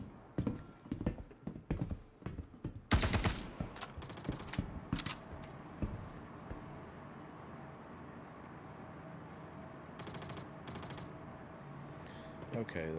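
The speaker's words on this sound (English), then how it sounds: "there's a lot of shooting going on" Gunfire in Star Citizen: sharp bursts of shots, including a rapid automatic volley, crack out in clusters over the first six seconds, with more scattered bursts later and some muffled, distant-sounding shots in between.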